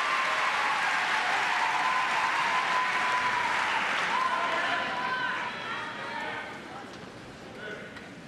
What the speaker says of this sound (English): And this crowd comes to life.